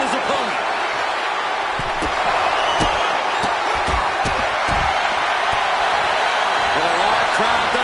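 Crowd cheering in a WWE 2K25 wrestling arena, a loud sustained roar with scattered thuds and slams, under a commentator talking.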